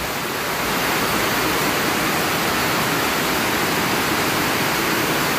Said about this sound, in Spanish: Miren que está lloviendo cabal ahorita a finales de noviembre.